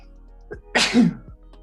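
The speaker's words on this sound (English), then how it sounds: "Excuse me, I knew I needed to sneeze." A single sneeze bursts out clearly and close, with a sharp broadband onset, a voiced tail, and faint breaths just before and after it.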